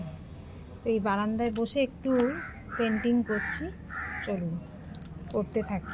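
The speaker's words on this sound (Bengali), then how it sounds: "আর দেখুন কাকটা কেমন ডাকছে," A crow caws repeatedly from close by at a home balcony, harsh calls in short bursts coming and going while someone speaks over them.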